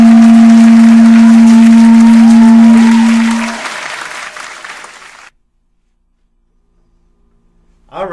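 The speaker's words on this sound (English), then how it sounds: "How about a round of applause for Sam?" Applause from a small audience in a radio talk-show studio, loud and close for about five seconds over a steady tone, then breaking off abruptly into silence.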